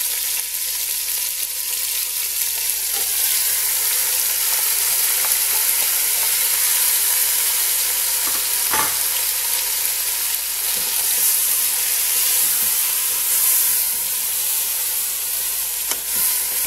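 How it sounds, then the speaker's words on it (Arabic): Chicken pieces fry in about a quarter ladle of oil in a pot, giving a steady, dense sizzle with a few faint pops and stirring scrapes, and no talking. "ونقلي فيها لي مغصو هادو تاع الدجاج"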